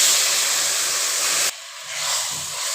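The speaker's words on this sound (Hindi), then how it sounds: "अब हम इसके अंदर ड्राई फ्रूट्स जो आपके पास के साथ ही हम इसके अंदर ये शीरा ऐड कर देंगे बहुत ही एहतियात के साथ।" Sugar syrup hits hot roasted semolina in a pan with a loud, close burst of sizzling steam that drops sharply partway through, then bubbles on more quietly.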